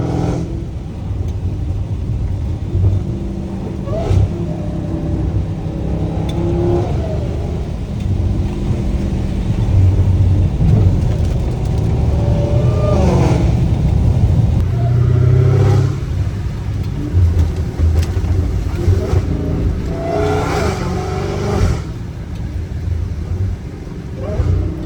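An 850 HP Dodge Hellcat Redeye engine rumbles and revs in the rain, with deep surging swells rising and falling across a long stretch, heard from close by with a steady low roar underneath.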